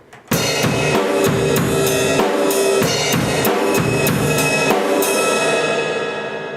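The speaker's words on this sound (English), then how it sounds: "But the cymbal that I will play more of is the ride cymbal" A ride cymbal struck in a steady, even pattern, its bright shimmer ringing continuously and washing over each hit, played loud and close with no talking.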